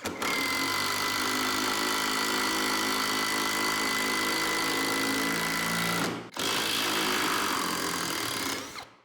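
An OZ/The Black Tools cordless impact driver hammers a screw into wood with a loud, continuous rattling whine that runs steadily, cuts out briefly, then resumes before stopping.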